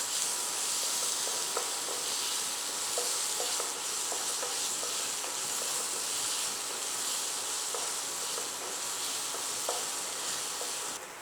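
Green chillies sauté in a hot pan, a steady bright sizzle running throughout with repeated soft scraping clicks as they are stirred.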